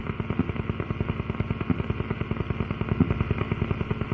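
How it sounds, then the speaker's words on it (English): A low, rapid rhythmic thumping repeats at an even pace, like rotor blades chopping the air, and stays steady and moderately loud throughout. "Helicopter sounds."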